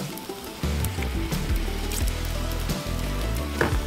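Butter sizzling in a hot pan for garlic shrimp fried rice, a dense, steady crackling hiss that swells after a quieter start, with low rumbling underneath.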